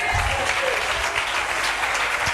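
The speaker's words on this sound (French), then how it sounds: "On acclame le Seigneur." A church congregation breaks into sustained applause to acclaim the Lord, a dense, steady wash of clapping that fills the whole moment without a break.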